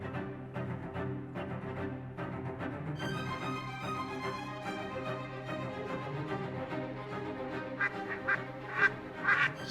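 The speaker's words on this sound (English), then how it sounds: "Single duck up high." Ducks quacking during a waterfowl hunt, mixed into a dense bed of music with repeated short calls throughout and a few louder bursts near the end.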